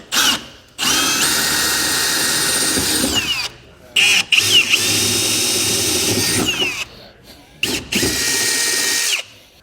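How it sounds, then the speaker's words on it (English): Power drill boring holes up through a 2023 Chevrolet truck bed, stepping up through drill bits to 11/16 inch for a fifth-wheel underbed hitch kit; loud sustained whirring bursts separated by short pauses, close by with no talk. "Now we'll come up top on our bed and work our way up with drill bits up to"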